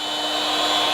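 A big angle grinder runs off a Jackery 3000 Pro portable power station during a heavy load test, a steady, loud, continuous high-pitched whine and rush holding without a break.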